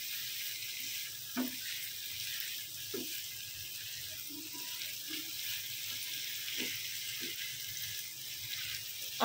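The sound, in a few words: potatoes sautéing with spices in oil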